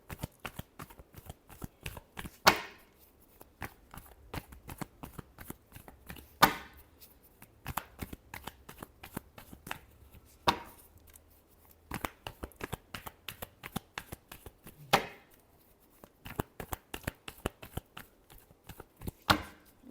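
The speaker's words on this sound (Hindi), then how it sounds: "Last shuffle." Tarot cards being shuffled by hand, a steady stream of soft riffling flicks with several sharper slaps where the deck is squared, close and fairly quiet with no talking.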